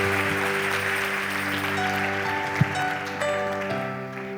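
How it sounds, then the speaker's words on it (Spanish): A church congregation applauds during a worship service, sustained clapping blended with held musical tones and a sharp knock near the middle, the clapping fading slightly toward the end. "Dele un aplauso al Señor."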